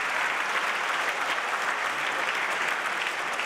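Steady applause from a squash match crowd, dense and continuous clapping throughout with no voices standing out.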